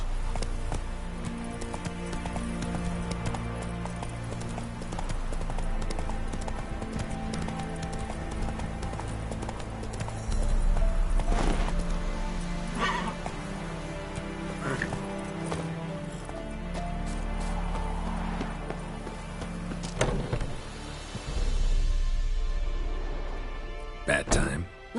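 Roach, the horse in The Witcher, gallops in a steady rhythmic clip-clop of hooves that runs throughout, loud and close, with game music and a few sharper knocks layered in. Speech is mixed in.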